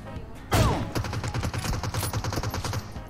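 Rapid automatic gunfire in a PUBG Mobile match: one loud shot, then a steady, evenly spaced stream of rounds that continues to the end, with no talking over it.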